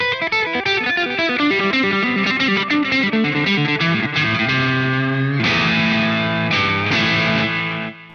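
Electric guitar plays a melodic line through a dotted eighth note delay, each note repeating in echoing rhythmic cascades with a slightly driven, shimmering tone, loud and alone.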